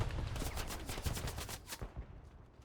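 Automatic gunfire crackles in the Hell Let Loose game on a Hürtgen Forest map: a rapid, close burst of repeated shots that breaks off near the end, leaving a quieter tail of scattered pops.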